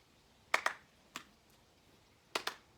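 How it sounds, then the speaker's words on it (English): Claps during a kids' golf club ball-catching drill: pairs of sharp, close claps, two quick ones, then a single, then another quick pair, alone over faint background. "Right, let's do 2 claps"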